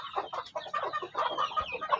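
A mother hen clucks close by in a busy, continuous stream of short, overlapping clucks with no voices.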